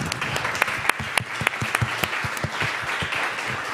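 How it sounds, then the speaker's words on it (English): A conference audience applauds a panel steadily and close by, with many hands clapping at once throughout. "great panel with great panelists that deserve a big applause"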